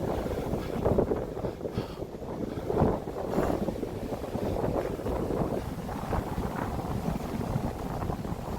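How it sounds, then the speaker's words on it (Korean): Strong wind roars across an open mountain summit on Balwangsan, buffeting the microphone with steady low rumbling gusts that swell and ease throughout, with no talking. "바람이 엄청"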